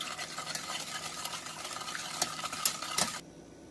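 A spoon stirs lemon sauce mixed with cane sugar in a pot, making soft continuous scraping with a few sharper clinks near the end before it stops abruptly.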